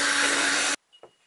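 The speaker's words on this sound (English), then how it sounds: "I'm going to use my vacuum cleaner, which I bought for the boat actually" Vacuum cleaner running inside a Macgregor 26 sailboat, a steady loud whooshing hum that cuts off suddenly, followed by a faint knock.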